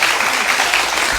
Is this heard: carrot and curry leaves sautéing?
no